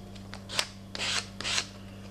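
Paint is scraped onto paper in a few short rasping strokes, three quick scratchy sweeps close up and fairly quiet, with no talking.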